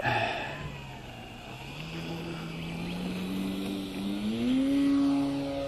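A Great Planes Decathlon 40 RC model airplane takes off, its engine droning and climbing steadily in pitch as it speeds up and moves away left to right, loud and continuous, with no talk.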